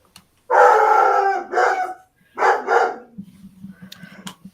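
A dog barks and howls in long, loud drawn-out bursts close to the microphone, two separate runs of cries with a short gap, then trailing into lower whimpering and grumbling sounds.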